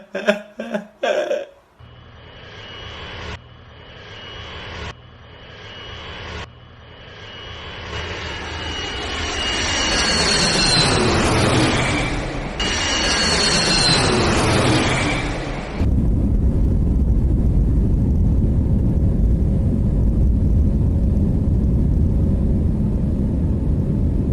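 A passenger airplane landing at Mumbai airport starts with a few thuds, then builds a loud, rising jet roar with whining tones. It ends in a sustained deep rumble of reverse thrust and braking on the runway. No one speaks.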